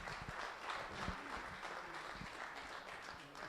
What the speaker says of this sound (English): let's give Ben a round of applause as he comes to the microphone